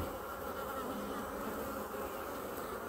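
Agitated honeybees swarm over a hive frame during a beekeeper's inspection, producing a dense, steady, close buzzing that holds without pause throughout.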